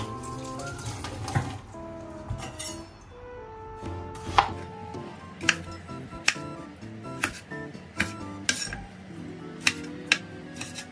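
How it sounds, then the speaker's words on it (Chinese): A knife chops a tomato on a cutting board in a string of sharp, distinct strikes spaced roughly a second apart, close and clear, over a faint background musical tone and no voices. "首先把这个番茄先切一下"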